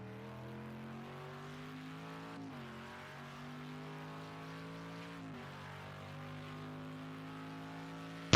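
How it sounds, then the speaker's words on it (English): An Aston Martin V10 race car engine in a GTE sim racing round at Bathurst drones steadily at high revs, pitch dipping briefly at gear changes, sustained and fairly loud with no talk over it. "Hear the power of the engine. I think it's a V10 in under the bonnet there."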